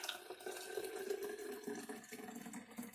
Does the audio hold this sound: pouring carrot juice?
yes